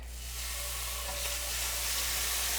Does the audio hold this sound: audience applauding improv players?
no